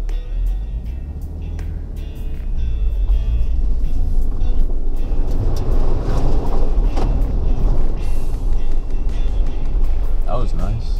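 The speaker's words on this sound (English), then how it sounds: "we're about to hit this mud puddle here, or mud hole" A 2017 Jeep Wrangler Rubicon plows through a mud hole off-road, its engine rumbling loudly and steadily with splashing and sloshing throughout, and a brief squeak near the end.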